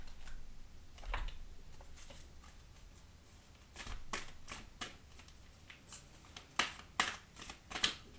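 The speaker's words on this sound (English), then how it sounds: "let's pull you an oracle card" Oracle cards shuffled and pulled from the deck: a steady soft riffling rustle broken by a string of sharp card snaps and taps, growing busier toward the end, close and fairly quiet.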